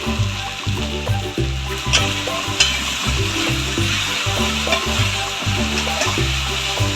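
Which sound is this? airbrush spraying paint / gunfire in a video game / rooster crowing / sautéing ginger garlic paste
sautéing ginger garlic paste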